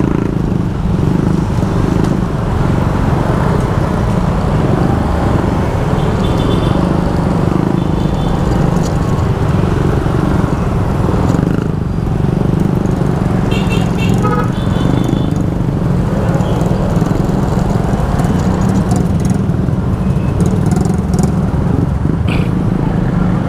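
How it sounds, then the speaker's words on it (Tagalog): Road traffic in the Philippines: a dense, steady roar of motorcycles and cars passing close by, a continuous rumble that never lets up for the whole stretch, with a few brief higher engine whines mixed in. "Grabe ang traffic nito"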